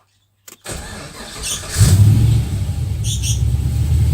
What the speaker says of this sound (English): So I'll start it up now.